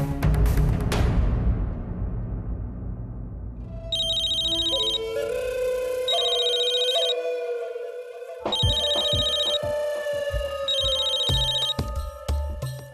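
A telephone rings in a Hindi TV drama scene, repeated bursts of bright electronic trills separated by short pauses, mixed with a low thump and background music.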